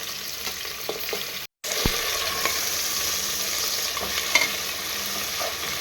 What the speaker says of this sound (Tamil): மெதுவாக மெதுவாக வெங்காயம் நல்லா வதங்கி பார்த்தீங்கன்னா